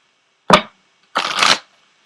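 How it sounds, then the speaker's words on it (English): Ascended Masters oracle cards being shuffled and pulled: a short sharp riffle followed after a pause by a longer, louder burst of shuffling, close and alone with no talk. "I'm going to go ahead and pull an Ascended Masters card for you as well"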